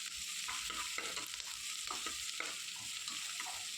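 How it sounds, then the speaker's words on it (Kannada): Carrot being stir-fried in a pan for a beetroot rice bath, giving a steady sizzle under a series of soft scraping stir strokes. "ಫ್ರೈ ಆಗ್ತಾ ಬಂತು. ಇವಾಗ ಕ್ಯಾರೆಟ್ ಹಾಕುವ."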